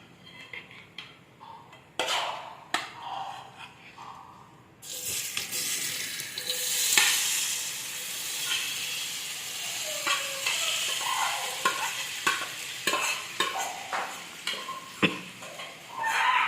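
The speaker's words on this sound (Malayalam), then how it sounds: "നമ്മളുടെ സോയ നല്ല പോലെ ഫ്രൈ ആയി വരുന്നുണ്ട്." Soya chunks sizzle and fry in hot oil in a pan, with repeated sharp scrapes and clinks of a spoon stirring against the metal, close and steady throughout, no voices.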